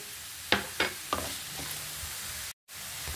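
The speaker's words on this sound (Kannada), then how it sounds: "ಸ್ವಲ್ಪ ಇದು ಕೂಡ ಫುಲ್ ಫ್ರೈ ಆಗಬೇಕು ಚೆನ್ನಾಗಿ" Tomatoes fry quietly in a pan with a soft, steady sizzle, punctuated early by a few sharp clinks of a utensil stirring, then a brief near-silent gap before the frying resumes.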